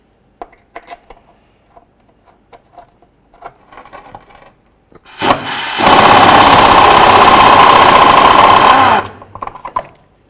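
Bolts being removed with a 10 mm tool beneath a 2005–2014 Ford Mustang during a fuel filter replacement: scattered light metallic clicks and taps, then a loud, steady mechanical whir lasting about four seconds before it stops.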